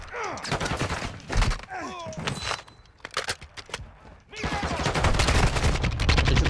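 Repeated gunfire in Call of Duty Modern Warfare II's DMZ mode on Ashika Island, with dense volleys of shots in bursts that thin briefly, then return as sustained fast firing, heavier toward the end, with a few scattered voices mixed in.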